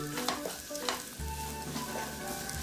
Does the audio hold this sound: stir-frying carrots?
yes